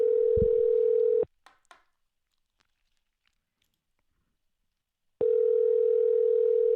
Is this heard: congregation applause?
no